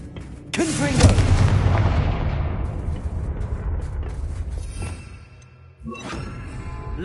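A Confringo fire spell in Hogwarts Legacy bursts with a sudden loud blast, then a long rumbling decay, followed by a second, smaller impact.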